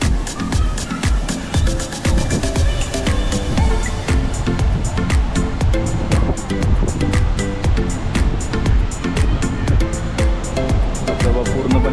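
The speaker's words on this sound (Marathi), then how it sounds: "धबधबा पूर्णपणे भरला आहे." The waterfall at Kundeshwar Temple in Badlapur, running full, gives a loud continuous rushing roar with a broad steady wash of sound, heard from close by without talk.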